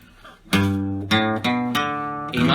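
Slow, beginner-paced acoustic guitar strumming, with several ringing chords struck at a relaxed, uneven pace, each sustaining before the next, close and clear with no talking.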